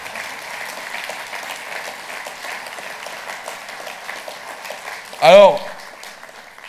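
Audience applause at a political New Year gathering of a Belgian party in Luxembourg province, a steady dense clapping filling the hall throughout, with a brief spoken word near the end.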